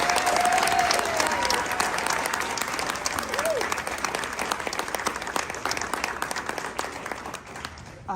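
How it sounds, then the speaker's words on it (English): A town hall audience breaks into loud, sustained applause that fills the room, holding steady at first and then thinning out toward the end, with a brief voice and whistle near the start. "a huge round of applause for these amazing women with us here tonight."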